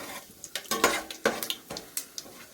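Onions and whole garam masala going into hot oil in a home kitchen pan, giving a series of sharp clinks and scrapes from stirring over a soft sizzle, close and fairly loud.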